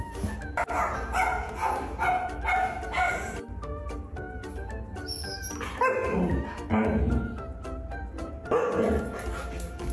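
A dog on the way to the vet whimpers and lets out yips and short barks, close and insistent, in bursts over a constant background noise.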